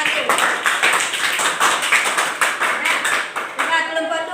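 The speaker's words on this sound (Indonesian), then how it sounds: "tepuk tangan untuk kelompok satu" A classroom group gives a round of applause: dense, steady clapping from many hands running throughout, close and fairly loud.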